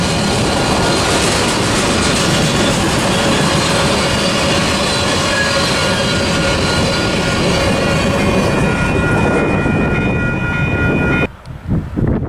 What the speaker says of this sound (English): This is train MGICB 22, manifest from Grand Island, Nebraska to Council Bluffs